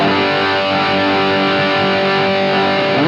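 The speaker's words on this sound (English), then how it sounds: "we're gonna kick on some overdrive to push this amp into sweet saturated" A heavily overdriven electric guitar chord through an overdrive pedal pushing an early-1970s Marshall Plexi amp rings out loud and thick, sustaining steadily for a few seconds with crunchy saturation and no voices.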